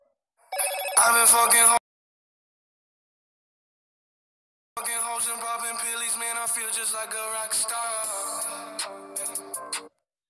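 A phone ringtone, triggered remotely through Google's find-device service, plays loudly in a short burst, stops for a few seconds, then resumes as a longer melodic ringing before cutting off.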